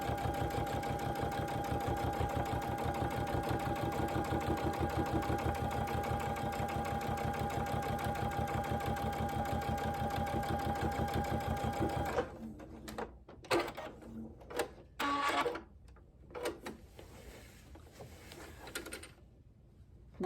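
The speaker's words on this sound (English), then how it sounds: "Going to sew on down." A sewing machine stitches quilt binding down, running close and steady in a fast, even rhythm for about twelve seconds, then in short stop-start bursts with pauses between.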